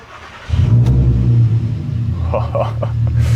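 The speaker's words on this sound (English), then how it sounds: "let's hear the first startup since installing the mufflers from inside the car" From inside a VW Passat R36 with newly installed mufflers, the engine cranks and catches, then settles into a steady, deep idle rumble, with a few faint voices or clicks over it.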